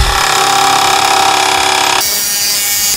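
A Dremel Moto-Saw cuts through 1/2 inch thick plywood with a loud, steady buzzing rasp close up, which drops in intensity about two-thirds of the way through as the blade stops biting.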